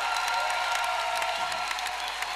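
A church congregation applauding in a worship service, with dense, continuous clapping that stays even and close for the whole short stretch.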